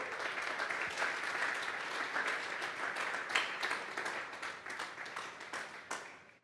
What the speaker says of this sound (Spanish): Vamos a darle una ofrenda de palmas a Dios.